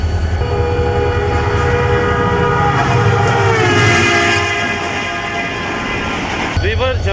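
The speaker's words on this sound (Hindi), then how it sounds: "शाह लतीफ़ एक्सप्रेस रिवर्स जा रही है और सामने से 17 अप मिल्लत एक्सप्रेस आ रही है।" Passenger express trains at Jhimpir railway station, one reversing while another approaches, with loud rolling rumble, a sustained horn blast and wheel screech toward the end, all close by.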